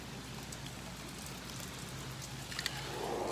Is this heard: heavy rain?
yes